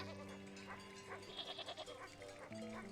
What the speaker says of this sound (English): Oh, look at the happy sheepies!